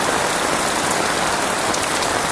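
Heavy rain pours steadily onto a flooded main street in a residential area, a loud, dense and continuous hiss with no pauses and no voices.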